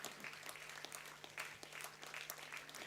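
A convocation audience applauds a gold medalist in a steady round of clapping from a hall full of people, with a constant low hum running beneath the sustained, fairly quiet applause.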